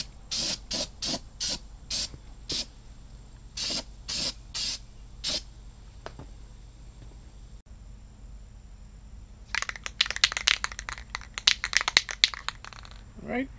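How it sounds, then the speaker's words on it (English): Carbon choke cleaner sprayed from an aerosol can onto a steel grab hook bracket on a Mahindra MAX28 tractor: about nine short, sharp hissing bursts in quick rhythm, a pause, then a longer rapid flurry of close spray bursts. "Now I'm going to hit it real quick with some carbon choke cleaner since I want to paint it before I put the hook on."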